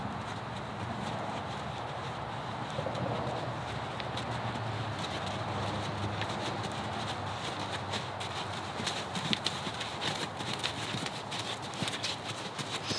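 Horses being free lunged walk on firm ground, their hooves making a faint, steady clip-clop that goes on without a break, with quiet background noise and no talking.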